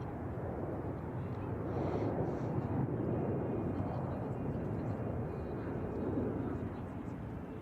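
An Avianca airliner arriving at San Francisco Airport gives a steady, broad jet roar that holds at an even level throughout, moderately distant and unbroken, with no talk.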